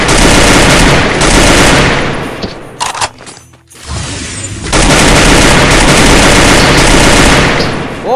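Loud, dense continuous automatic gunfire in a video game, a sustained roaring fusillade that drops away briefly mid-way before resuming at full volume.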